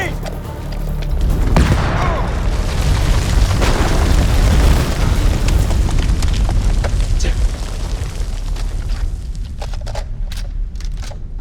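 A grenade detonates in House of Ashes with a loud, deep boom that rolls into a long, rumbling blast lasting several seconds, then fades into crackling debris and lingering low rumble.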